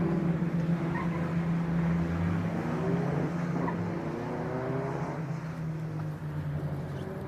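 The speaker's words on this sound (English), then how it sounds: "We just saw car 32 come trundling down the pit lane there." A historic 750 Formula race car rolls slowly down the pit lane, its low engine drone steady and fairly close, with faint crowd and ambient noise around it.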